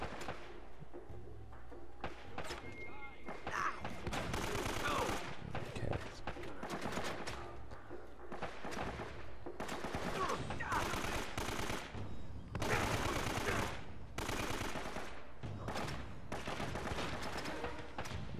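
Enemy shotgun fire in Uncharted: Drake's Fortune on PS3, a long run of heavy blasts and bursts of gunfire, some near and loud, mixed with combat noise and someone talking in places.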